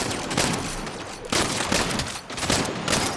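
A new gun firing in the video game Saints Row, loud rapid bursts of automatic fire in two or three long volleys, close and harsh with brief gaps between them.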